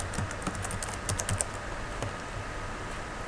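Typing on a computer keyboard while entering on-screen text in an editing program: quick, light key clicks in short clusters, loudest in the first second and a half and sparser afterward, with no talking.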